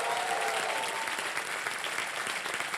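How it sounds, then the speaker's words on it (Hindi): A studio audience at a game show claps hard and steadily, a dense wash of applause that fills the moment throughout, with no voices standing out above it. "बहुत जोरदार तालियां उनके लिए।"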